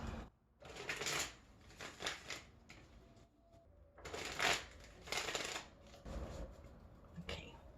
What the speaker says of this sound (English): I'm just shuffling a couple more times.